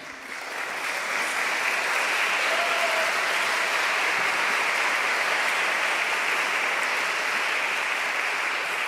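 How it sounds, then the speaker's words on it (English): An annual meeting audience gives a long, loud round of applause for the nominating committee, dense clapping that swells in over the first second and then sustains evenly, with no talk over it. "Let us all join to acknowledge and thank them for the outstanding contributions with a well-deserved round of applause."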